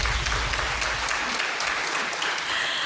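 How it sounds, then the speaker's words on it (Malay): An audience applauds for RTM at its 75th anniversary celebration in Melaka, a steady, moderately loud wash of clapping that continues throughout, with a low rumbling hum at the start. "Tepukan untuk RTM."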